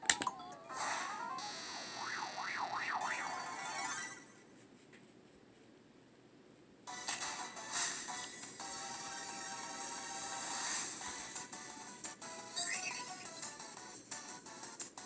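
A mobile phone rings with a warbling electronic tone over a steady background of video game music. The sound breaks off briefly, then a second stretch of tones follows, and no one speaks.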